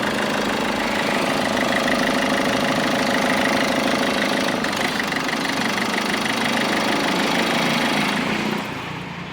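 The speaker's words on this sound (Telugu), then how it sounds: "ఒకసారి బండి సెల్ఫ్ అనేది ఆపి మళ్ళీ ఆన్ చేస్తున్నాను ఒకసారి చూడండి" Engine of a 2014 Ford Titanium car running steadily at close range with a knocking idle, then dropping away near the end as it is switched off; no restart is clearly audible.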